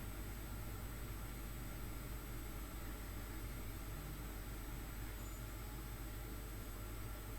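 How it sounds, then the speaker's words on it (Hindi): Sweet tikkis frying slowly in oil on low heat, giving a steady, faint broadband crackle and hiss that runs evenly throughout with no talking. "उसमें हम ये टिक्कियाँ डाल के फ्राई करेंगे।"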